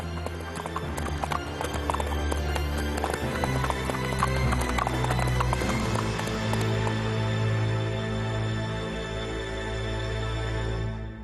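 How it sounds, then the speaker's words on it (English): Horses' hooves clip-clop steadily on the Imperial Road along Beijing's central axis, many hoofbeats overlapping at a brisk pace, with an occasional whinny and faint murmuring in the background. "Soldiers' boots and horses' hooves trampled the axis of the city in the famous Imperial Road."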